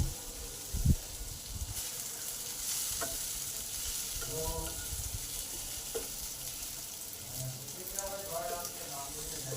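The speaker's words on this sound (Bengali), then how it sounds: "পাঁচ মিনিট পর ক্যাপসিকামগুলো ভাজা ভাজা হয়ে গেছে হাফ সেদ্ধ হয়ে গেছে" Capsicum pieces fry in oil in a pan for an aloo chilli recipe, giving a steady, close sizzle with a spoon knock near the start and occasional stirring scrapes.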